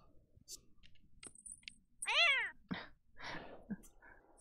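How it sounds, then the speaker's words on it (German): Sascha, a pet cat in the video game The Sims 4, gives one clear, loud meow in the middle, surrounded by soft clicks and faint game sounds, with no talking. "Sascha ist so eine richtig doofe Katze."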